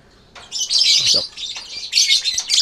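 Lovebird chicks, offspring of a PB Violet/Blue and Euwing Blue violet pairing, chirp and squawk loudly and close up in rapid overlapping bursts, with a voice briefly underneath.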